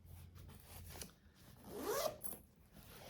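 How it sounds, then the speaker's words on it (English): A soft nylon zipper on a cork-fabric pouch rasps once through a short pull, quiet and close, with faint handling rustles around it. "The zipper on this is, it looks metal, but it's not. It's made out of nylon and it's very soft"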